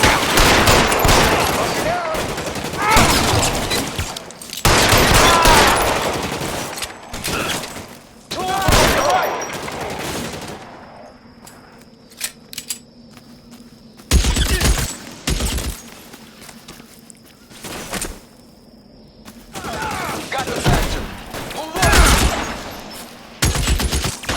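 Rapid bursts of gunfire in a shootout from the video game L.A. Noire, loud and close, several volleys broken by short lulls with faint tones between them.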